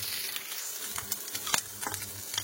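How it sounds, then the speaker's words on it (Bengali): Stinging catfish fries quietly in oil, a soft sizzle broken by scattered crackles and pops. "ওই যে দেখো মাছটা খুব সুন্দর ভাজা হচ্ছে"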